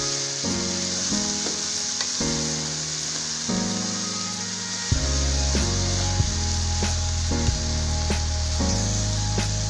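A spinach and egg curry being stirred in a pan gives a steady frying sizzle with occasional scrapes, heard beneath continuous background music.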